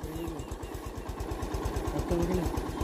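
A motorcycle engine idles on a steep, slippery slope, a close, rapid, even low putter of firing pulses throughout, with people talking over it.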